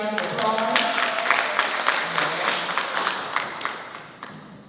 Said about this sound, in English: Let's give Tiffany another round of applause.